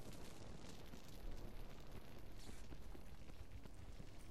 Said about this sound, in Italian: Oh, la miseria, che esplosione da panico!